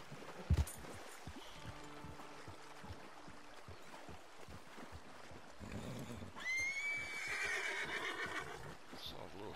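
A horse whinnies in the video game Red Dead Redemption 2, with a clear neigh rising over steady ambient noise and faint clip-clop near the end.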